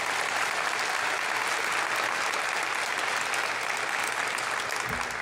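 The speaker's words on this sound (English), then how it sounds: "Round of applause, please," Steady crowd applause at a university graduation convocation, a continuous wash of clapping at moderate distance that holds evenly for over five seconds with no talk on top.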